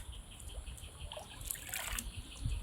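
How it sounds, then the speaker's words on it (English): Water trickles and splashes softly as it is poured through a mass of tiny wolffia plants, faint and continuous at close range. "this water that I'm taking and that I'm pouring here to see. You see that? The water is running through it."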